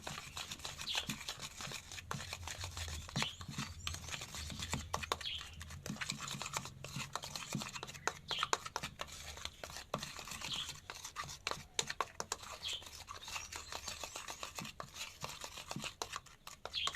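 A spoon mixes baking soda and Colgate toothpaste with faint, steady scraping and stirring, made of soft irregular clicks and rubs.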